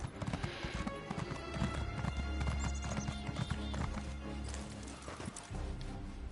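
A horse in Elder Scrolls Online clip-clops along with steady, rhythmic hoofbeats layered over dense game music and effects, and a brief whinny sounds partway through.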